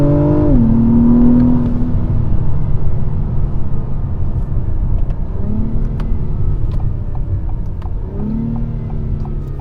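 A 2024 Acura TLX Type S with a sport-tuned 10-speed automatic accelerates hard from inside the cabin, engine note climbing then dropping sharply at each of three quick upshifts, over a steady road rumble.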